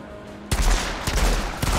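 Outriders combat opens on quiet ambience, then a sudden heavy burst of gunfire hits, followed by further sharp shots at roughly half-second intervals, loud and close.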